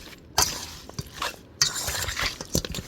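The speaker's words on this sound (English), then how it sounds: "So you stir it and you stir it well. Make sure you stir it very well." Seasoned meat is stirred in a bowl while Jamaican Sunday dinner is prepared. A few sharp clinks of a spoon against the bowl come through, along with soft, irregular squelching scrapes of the meat being mixed, close up, with no talking.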